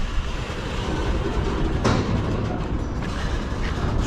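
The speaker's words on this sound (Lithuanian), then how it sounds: "Štai koksai pro Kauno geležinkelio stotį pravažiuoja poros kilometrų ilgio." A very long freight train, roughly two kilometres of wagons, rolls past Kaunas railway station, giving a loud, steady rumble with wheel clatter that fills the whole stretch, no voices.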